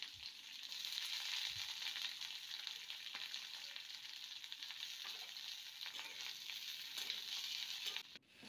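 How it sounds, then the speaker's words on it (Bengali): Chopped onions fry in hot oil for a home-style curry, giving a steady, close sizzle with faint stirring clicks and scrapes throughout. "যে তেলটা ছিল তার মধ্যে আমি পেঁয়াজ কুচোগুলো ছেড়ে দিলাম।"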